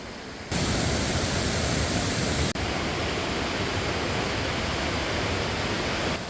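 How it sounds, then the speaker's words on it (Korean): Waterfall in the Namsan valley gorge at Cheongdo, seen from a mountain pavilion after heavy rain, roaring as a loud, steady broadband rush that fills the whole clip without pause. "산수정에서 바라보는 남산 계곡의 폭포가 아주 아름답습니다."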